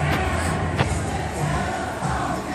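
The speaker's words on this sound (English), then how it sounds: "Y'all, this is their crowd." New Edition fans gathered at the Hollywood Walk of Fame for the group's star ceremony make a dense, steady crowd murmur throughout, with one brief sharp sound standing out near the start.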